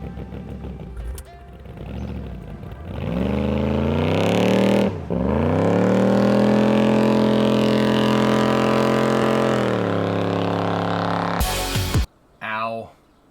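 A rocket or vehicle engine in Kerbal Space Program cranks up, its droning roar climbing in pitch and holding loud and steady for several seconds before cutting out, with a person talking around it.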